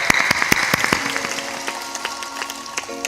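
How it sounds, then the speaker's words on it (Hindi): A religious discourse audience claps on request, with sparse, scattered claps early on that fade out under sustained tonal sound in the hall. "ताली बजा दो"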